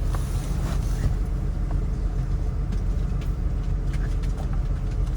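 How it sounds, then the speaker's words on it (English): A four-wheel-drive Jeep drones steadily nearby with a constant low engine rumble while towing a 1978 IH Scout II that has no brakes out of a tight spot. "we are currently pulling the Scout out of its hidey hole with my Jeep"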